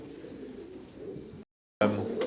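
Short faced tumbler pigeons coo softly in a dim loft, low murmuring calls under a quiet hum that cuts out to silence briefly, then returns louder and closer.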